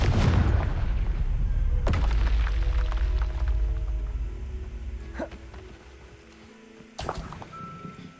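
Confringo fire-blast spell in a Harry Potter video game: a loud low explosion rumbles and decays, with sharp follow-up impacts and tonal game effects, then a final burst near the end.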